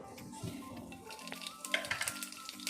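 Mustard seeds and cumin sizzling in oil in a kadai for sambar, crackling pops and sputters building toward the end alongside soft stirring and utensil clinks.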